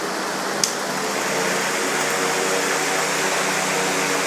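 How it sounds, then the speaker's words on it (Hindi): Electric fan running and being switched between slow and fast speeds, a steady broadband whooshing hum that rises a little after a brief click, close and continuous with no talk. "फास्ट होने के बाद से थोड़ा सा हिल भी रहा है पंखा, अपने जगह से इधर उधर घूमने लग रहा है।"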